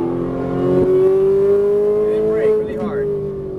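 A Ferrari 458 Italia engine on a race track in Las Vegas rises in pitch as it accelerates, a loud sustained tone climbing steadily, with an instructor talking over it.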